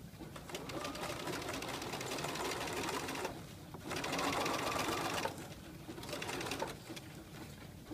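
A sewing machine stitches a lapped zipper into fabric, running in steady whirring bursts that pause briefly twice before starting up again, close and fairly loud.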